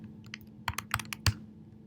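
Code typed on a computer keyboard: a quiet, irregular patter of about a dozen close, crisp keystrokes in short bursts, with no talking.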